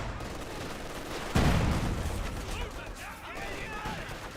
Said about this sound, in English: Axis barrage there.